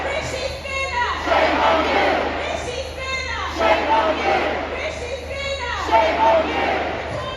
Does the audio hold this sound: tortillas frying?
no